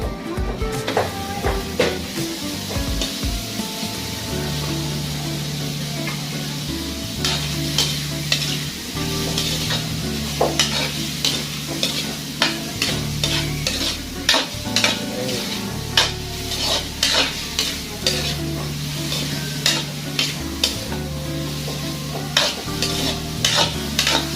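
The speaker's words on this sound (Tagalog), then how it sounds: "Palabasin natin yung mantika niya mga boss." Pork fat frying in a hot pan, a loud continuous sizzle broken by frequent close clanks and scrapes of a utensil against the metal, over a low steady hum.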